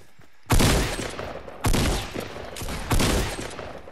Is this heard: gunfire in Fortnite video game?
yes